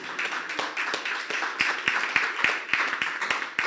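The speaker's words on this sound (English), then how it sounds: "Okay, colleagues, you can clap," Colleagues clapping at a company's annual general meeting, a steady scattered patter of hands from a small group, fairly close, with no one talking over it.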